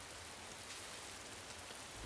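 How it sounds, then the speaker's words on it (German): Steady, dense rain hisses down on a surface, a constant wash of drops with no pauses. "Es regnet?"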